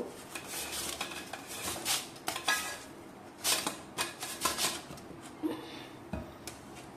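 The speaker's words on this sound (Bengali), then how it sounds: "আলুগুলো আমি লম্বা লম্বা করে এরকম করে কুড়িয়ে নেব।" Raw potatoes rubbed against a metal grater into long strips for a Bengali fried potato dish, a steady run of scraping strokes with clinks of metal and dishes, close and fairly quiet, with no talking.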